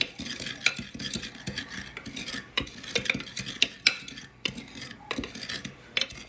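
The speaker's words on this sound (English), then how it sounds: "Stir that together." A spoon stirs half-and-half with probiotic yogurt culture in a bowl, giving quick irregular clinks and scrapes against the container, fairly quiet and close, with no talking.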